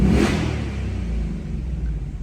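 Ford Mustang Dark Horse V8 in quiet exhaust mode giving one quick rev, a short rising blip early on that settles into a low, steady, muffled idle rumble, close by and alone.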